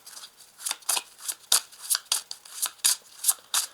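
A deck of tarot cards is shuffled and handled close up, producing a quick series of crisp riffling snaps in an irregular rhythm, quiet overall with no speech.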